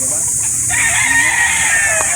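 Chickens and a rooster at a poultry market in Calauan, Laguna, with loud close clucking and a drawn-out crow over constant high-pitched background din, with voices faintly present.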